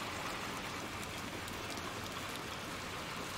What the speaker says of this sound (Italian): Piove a dirotto.